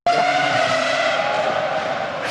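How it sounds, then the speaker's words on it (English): Old V10 Formula 1 cars race past during qualifying in Abu Dhabi, a loud continuous high-pitched engine wail with steady harmonic whine that holds throughout and swells slightly at the end, with no talk over it. "These old 10-cylinder cars are really annoying."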